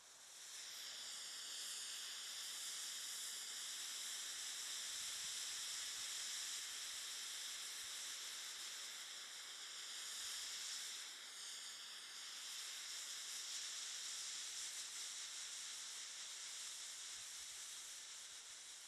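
A 20-gram smoke bomb mix with 3 grams of baking soda added burns with a steady, faint hiss that holds for the whole stretch with slight swells.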